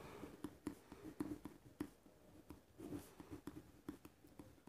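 Marker or chalk strokes on a board sound in soft, irregular scratches and taps close by, quiet and steady, with no talk.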